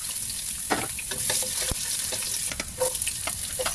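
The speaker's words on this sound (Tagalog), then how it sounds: "nagisa na tayo ng bawang," Garlic, ginger and onion sautéing in a pan for pinapaitan, a dense close sizzle with scattered crackles and stirring scrapes, no talking.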